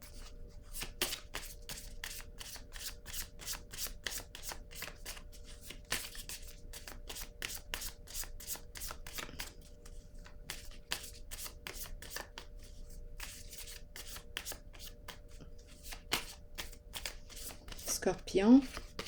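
Tarot cards being shuffled by hand, a long run of quick crisp riffling flicks repeating steadily up close, with a brief vocal sound near the end.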